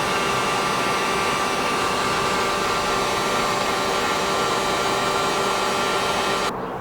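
A heat gun blows hot air onto a C5 Corvette inner fender panel, giving a loud, steady whooshing roar with a faint motor whine that runs unbroken for several seconds and cuts off abruptly near the end.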